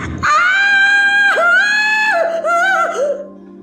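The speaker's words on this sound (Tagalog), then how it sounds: "Tahimik ang buong bahay nang biglang may umalingaw-ngaw na sigaw." A woman lets out a long, high-pitched scream that wavers and breaks into several rising and falling cries, loud and close, in a Filipino horror audio drama set in a silent house.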